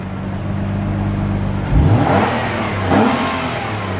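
A nearby car engine idles with a steady low hum, then revs twice in quick succession, each rise swelling and fading back to idle, with no talk over it.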